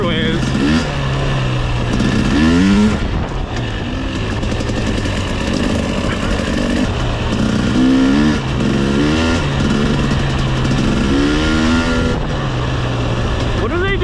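Dirt bike engine on an off-road trail, revving and droning steadily with repeated rising throttle pulls, loud and close throughout.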